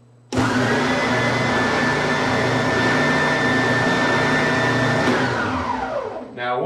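WEN 6510 oscillating spindle sander starts abruptly and runs with a loud, steady motor whine and a high hum for several seconds, then winds down near the end.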